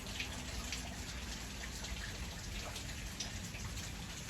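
Steady rain falls throughout on a gray day, a dense even hiss of drops on surfaces with scattered closer patters, continuous and unbroken with no voices.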